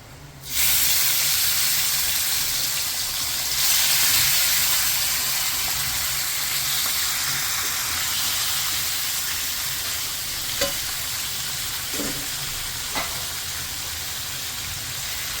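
Chicken liver and reddened garlic fry in hot oil in a pan, with a steady close sizzle and a few scraping stirs near the end.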